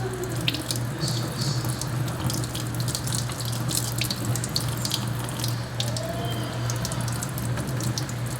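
Running tap water splashes steadily into a sink while a makeup brush is rinsed, a continuous close hiss with faint drips and no talking.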